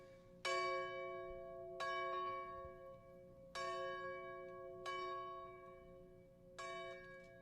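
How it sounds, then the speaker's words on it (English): Five slow tolls of a church bell in Van Lear, Kentucky, rung at 10 a.m., each ringing out clearly and fading into a long hum before the next strike, with no voices. "This is ringing the bells at 10 a.m., which we're asking everybody to do."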